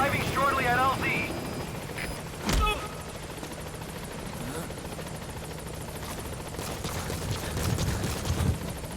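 The Pequod helicopter in Metal Gear Solid V: The Phantom Pain thrums steadily as it arrives at the landing zone, its rotor wash constant beneath game effects, a radio voice and a sharp burst around the middle.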